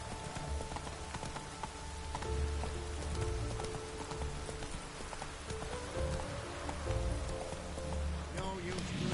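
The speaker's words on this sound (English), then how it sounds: "No use doing any work in this rain." Steady rain pours down across a PS4 video game scene with a horse, a dense wash of patter joined by game music tones and occasional hoof clops, while a voice talks over it.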